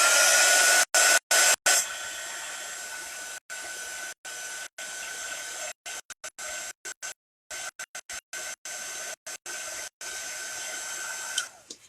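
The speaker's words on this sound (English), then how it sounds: "I'm going to hit it with the heat tool just to make sure that it's completely dry." A craft heat tool blows hot air over ink on a paper tag, giving a loud, steady whooshing hiss that keeps cutting off and restarting in short bursts.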